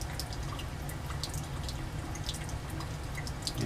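Ketone falls drop by drop into a Grignard reaction mixture, roughly one drop each second, giving soft, evenly spaced little drips over a quiet background with no talking.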